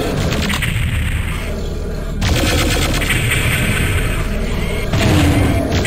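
Loud, continuous gunfire and booming blasts from the shooter game Doom 64, rapid overlapping shots in dense bursts that swell louder at two points, with no talk.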